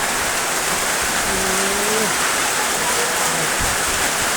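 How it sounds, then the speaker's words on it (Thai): Dense, loud hiss of heavy rain pouring steadily, with a brief faint voice or tone partly buried under the downpour. "ฝนตกแรงจริง"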